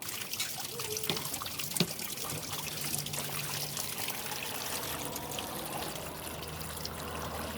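Water pours and trickles steadily into a gold pan full of pay dirt, a close, continuous splashing stream that carries on for the whole stretch without talk.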